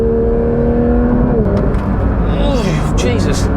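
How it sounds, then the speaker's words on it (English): Porsche 992 911 GT3 flat-six 4-litre engine with individual throttle bodies, heard from the cabin on a mountain road as a loud, rich drone that holds, falls away and sweeps back up across gear changes, with a voice over it. "The noise as well, coming from that flat 6 4-litre engine with its individual throttle bodies"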